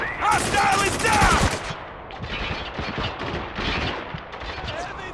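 Bursts of automatic gunfire from the video game Spec Ops The Line, loud and sustained, with dense volleys early then continuing rattling shots throughout.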